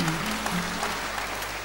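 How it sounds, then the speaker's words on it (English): Steady applause from a crowd, a continuous wash of clapping at moderate volume with a faint low hum underneath. "Give her a round of applause."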